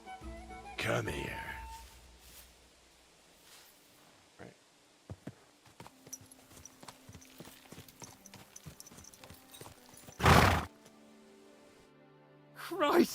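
Hooves clip-clop in a quick, steady running rhythm as a horse gallops in the video game Kingdom Come: Deliverance II, broken by a few sudden loud bursts of noise and neighing.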